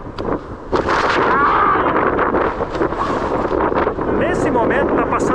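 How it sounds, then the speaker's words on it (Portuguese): Strong south wind from a cold front passing over the canyons of Santa Catarina batters the microphone in loud, continuous roaring gusts with rumbling buffeting, and a voice is partly heard under it. "O vento tá brabo."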